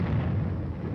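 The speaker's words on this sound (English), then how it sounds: "The air bursts fired by a battalion of 105mm howitzers present a lively show." Air bursts from a battalion of 105mm howitzers merge into a dense, heavy low rumble of overlapping blasts, loud and continuous through the short span.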